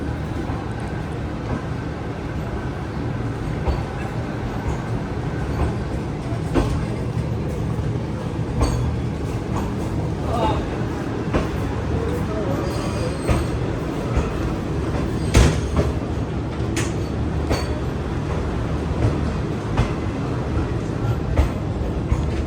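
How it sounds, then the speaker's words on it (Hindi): Shalimar Express train departing Bahawalpur station on time, a long continuous rumble of wheels and wagons with occasional clanks and squeals. "ट्रेन अपने राइट टाइम डिपार्ट हुई है भावलपुर से"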